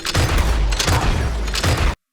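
Shotgun blasts from Red Dead Redemption 2, loud and close, arriving as three or four heavy booming bursts in quick succession with little gap between them.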